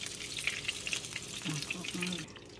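Pompano fish frying in a pan, a steady crackling sizzle with bubbling oil, joined midway by a brief low tonal hum from the kitchen.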